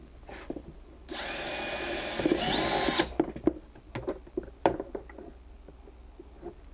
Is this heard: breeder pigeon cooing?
no